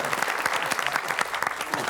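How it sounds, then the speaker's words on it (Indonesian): A studio audience at a comedy quiz show applauds in a quick, dense patter of many hands, loud and near, lasting the whole moment with a faint murmur of voices underneath. "Iya, kita beri tepuk tangan."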